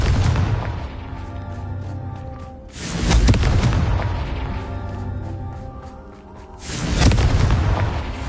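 Explosion spells cast in the video game Hogwarts Legacy, three heavy booming blasts spaced a few seconds apart, each swelling loudly then rumbling away under game music.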